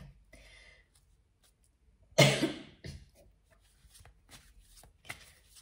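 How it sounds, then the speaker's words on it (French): A woman gives a single sharp, loud cough up close, followed by a softer trailing throat sound and then quiet rustling. "Désolée pour la toux,"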